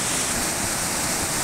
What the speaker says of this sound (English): a hydraulic jump on the Coomera River on the Gold Coast, Queensland, Australia, in March 2017